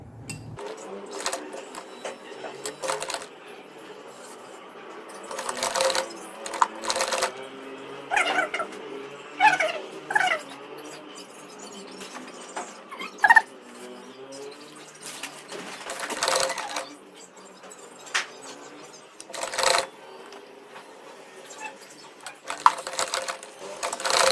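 A domestic sewing machine stitching a ribbon-trimmed neckline, running in short bursts and pauses with soft clicks and handling noises between, close by and fairly quiet.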